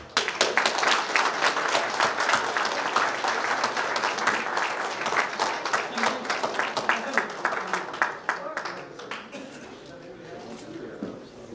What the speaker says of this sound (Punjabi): ਤੁਸੀਂ ਜ਼ੋਰਦਾਰ ਤਾੜੀਆਂ ਦੇ ਨਾਲ ਇਹਨਾਂ ਦਾ ਸਵਾਗਤ ਕਰੋ